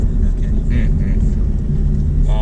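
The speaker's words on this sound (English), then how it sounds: "This car is loud because it's a supercar." A powerful Maserati supercar engine rumbles deeply and continuously, heard up close with a steady low growl.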